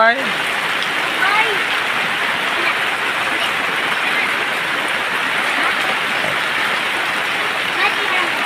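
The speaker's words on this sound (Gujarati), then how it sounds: "જોરદાર વરસાદ પડી રહ્યો છે" Dense, steady hiss of heavy rain falling, continuous and loud for the whole stretch, with faint voices briefly underneath.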